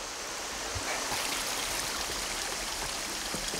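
Water rushes steadily in a nearby Kentucky creek, a continuous hiss and gurgle with no talking and a few soft knocks.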